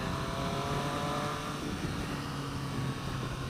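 A 2018 Triumph Street Triple RS three-cylinder motorcycle idles and revs with a muted engine hum and little exhaust growl, a steady droning tone heard alone.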